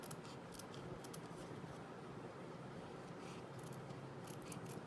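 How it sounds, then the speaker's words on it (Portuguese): Fine-pointed scissors snip through fabric in a quick, faint series of crisp cuts, close-up and alone, with no talking. "vou abrir com uma tesoura bem fininha, de ponta bem fininha"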